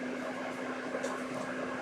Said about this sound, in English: I can increase the fan speed now.